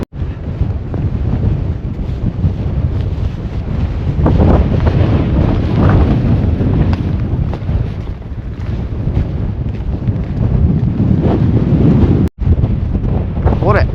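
Strong wind on top of a quarry at Slitt Mine, Weardale, roars and buffets the microphone continuously, a loud rumbling blast with gusts rising and falling throughout.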